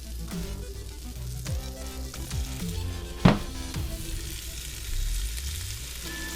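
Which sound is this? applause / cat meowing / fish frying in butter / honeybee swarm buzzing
fish frying in butter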